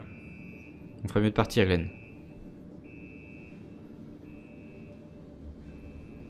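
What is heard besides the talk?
alarm going off in video game Star Citizen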